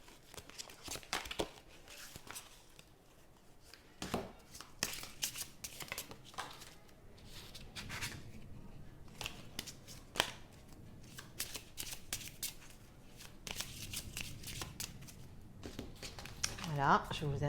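A deck of 78 tarot cards is shuffled by hand in two piles, producing a run of papery riffles, slides and flicks in irregular bursts, with a voice talking over them at times.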